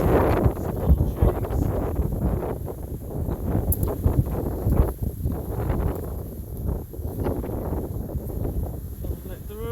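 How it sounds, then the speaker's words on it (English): Strong storm wind roars and buffets the microphone continuously outdoors, loud gusts with rustling, while someone secures potted trees nearby. "It's very windy out here."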